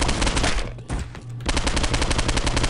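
Rapid automatic gunfire from the video game Postal 2 rattles in dense bursts, pausing briefly before the shots resume at a fast, even rhythm.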